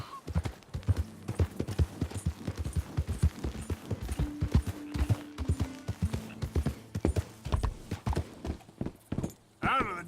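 Horse hooves clip-clop in steady, rhythmic beats on the ground in Red Dead Redemption II, close and clear, with short pauses as the horse slows and moves on. Voices speak over the hoofbeats.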